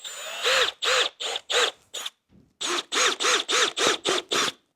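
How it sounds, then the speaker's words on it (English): A power drill bores out pilot holes in motorcycle fenders, running in a series of short, even bursts separated by brief pauses, loud and close, with a clear whine in each burst. "You literally just drill those out."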